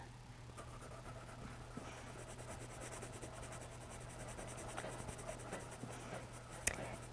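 A pencil rubs steadily across paper while coloring in a drawing, a soft continuous scratchy texture with faint strokes, close and quiet, with no talk over it.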